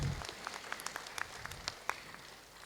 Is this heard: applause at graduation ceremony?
yes